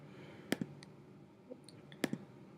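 A computer mouse clicking close by, two quick double-clicks about a second and a half apart, with a few fainter ticks between them over a quiet room hiss.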